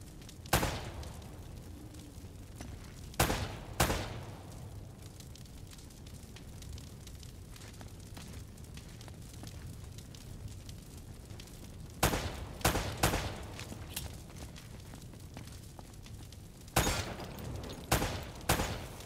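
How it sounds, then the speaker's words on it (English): Bursts of gunfire shooting at lamps in Uncharted: Drake's Fortune, several sharp volleys spaced across the clip over a low ambient game background, loud and close. "Try shooting one of those lamps down."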